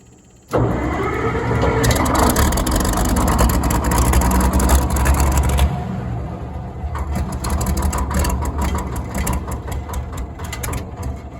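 A Caterpillar 12 8T engine cranks loudly for about five seconds as it tries to start, then a rougher, rattling mechanical churn continues after a brief shift in tone.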